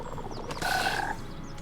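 Frogs croak in a Pathfinder: Kingmaker battle, one loud guttural croak mixed with game effects and ambience, clear and up front.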